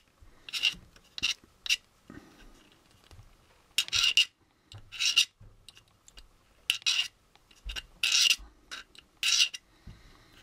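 A hobby knife scrapes along the seam of a plastic model kit, where the body meets the neck, in short bursts of dry rasping strokes separated by quiet pauses, close and clear.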